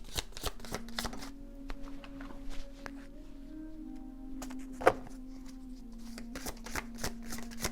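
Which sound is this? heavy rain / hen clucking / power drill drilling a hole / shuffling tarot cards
shuffling tarot cards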